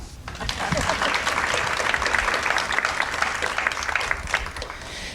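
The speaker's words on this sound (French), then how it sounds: "On peut les applaudir." The audience at a women's health panel discussion applauds the panelists, a steady, fairly even wash of clapping that builds quickly and holds for about five seconds, with possible faint voices underneath.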